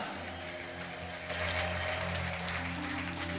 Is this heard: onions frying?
no